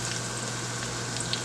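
Corned beef fritters fry in a pan with a loud, continuous close-up sizzle and crackle that holds steady the whole time, with no voices.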